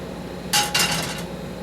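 A metal pan holding about a tablespoon of olive oil is tilted and rolled on the stove, giving a few close, bright clinks and a short rattle over a quiet room.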